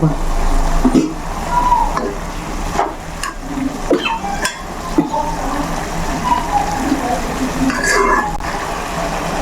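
Mushroom gravy sizzles in a pan with ground coconut, ginger, garlic and pepper, the moist frying hiss broken by the scrape and clack of a stirring spoon, and a voice talks throughout.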